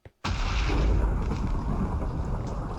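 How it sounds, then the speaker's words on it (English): A thunderstorm in the video game Minecraft bursts in with a sudden, loud, deep rumbling roar that holds steady for nearly three seconds with no talking. "Is that a thunderstorm? That was the loudest noise I've ever heard in this game."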